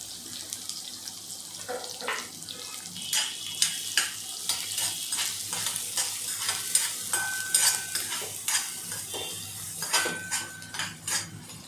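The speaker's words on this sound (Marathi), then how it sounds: "आता याच्यामध्ये मी एक कांदा टाकत आहे बारका चिर एक मिडियम साईजचा कांदा टाकला याच्यामध्ये मी" A medium-sized chopped onion sizzling in oil with cumin while a spoon stirs it around the pan in a grated bitter gourd dish, heard close with repeated scraping clinks over a continuous fry and no voices.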